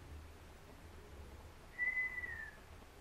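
A single short whistled note from a person, clear and steady then gently falling, over quiet background hum.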